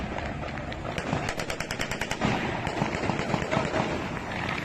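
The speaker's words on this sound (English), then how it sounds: "Celebratory gunfire continues." Rapid bursts of celebratory gunfire crackle in quick succession during a convoy in Syria, a rattling string of shots followed by scattered pops over a busy outdoor background.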